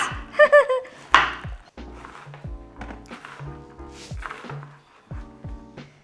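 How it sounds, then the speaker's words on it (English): A knife taps and thuds on a cutting board in quick irregular strokes, with a few short sharp knocks in between, fairly close. "So how finely am I chopping these? Just a small dice"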